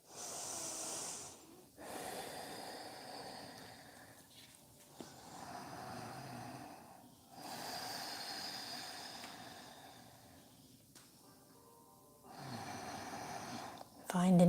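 Deep, slow breaths during a forward-fold yoga stretch, several long inhales and exhales with quiet pauses between them, close and soft.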